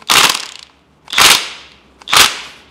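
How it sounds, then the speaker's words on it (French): An impact wrench gives three short, sharp bursts a second apart as it tightens the VANOS piston cap nut on a BMW M52TU/M54 engine, each a loud close rattling hammer that quickly fades. "Moi, perso, j'ai mis 3 petits coups de péteuse, là."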